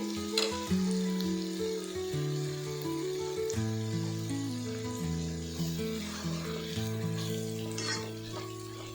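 Masala spices frying in a pan over a medium flame, a steady sizzle and crackle running throughout under tonal background music, with no talk.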